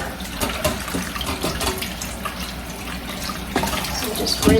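Carrots held under a running kitchen tap for a soap rinse, with water pouring and splashing steadily at close range, and a voice speaking over it.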